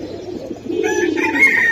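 Giribaz pigeons cooing close by, a soft, continuous low burbling coo with faint higher chirps layered on top, steady and fairly loud.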